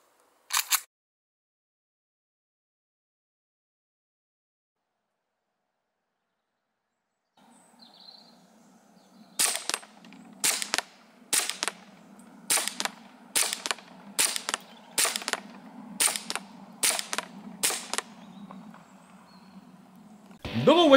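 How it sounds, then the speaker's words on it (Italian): A KJ Works Glock 17 CO2 airsoft pistol firing test shots: a single sharp crack, a long silence, then about ten crisp, evenly spaced pops in a steady rhythm over a faint hum. "durante la prova di tiro ho sparato"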